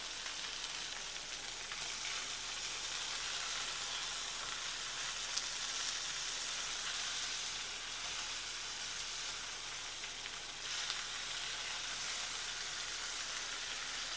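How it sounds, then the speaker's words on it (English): Steak sears in a hot pan, a dense, steady sizzle and crackle that carries on unbroken for a long stretch, close by and with no one talking. "I need to sear that side of the meat there"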